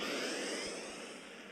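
A steady, loud whooshing drone of a spaceship's warp engine in the space game Second Galaxy, a broad continuous rush with a slowly sweeping tone, heard alone.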